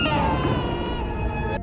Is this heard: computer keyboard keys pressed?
no